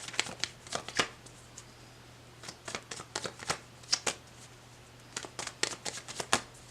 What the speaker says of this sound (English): Let's go ahead and get the final card here on the left side.